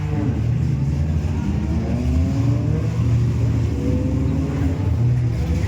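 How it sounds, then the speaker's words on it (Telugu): Nissan Skyline R34 and R35 cars racing in Kuwait, heard as a continuous loud engine drone with rising revs, steady and close. "ఈ రేస్ అయితే నిసాన్ స్కైలైన్ R34కి అండ్ అలాగే న్యూ మోడల్ R35కి."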